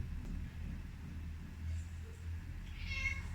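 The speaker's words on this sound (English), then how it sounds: "The cat wants to say hello." A house cat meows, a clear mid-pitched call near the end over a low steady room hum, with no one talking during it.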